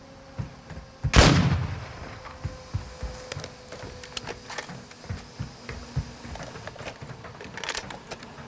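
A loud gunshot blast rings out early in a Call of Duty DMZ match, followed by scattered fainter distant shots and rattles over a low ambient hum.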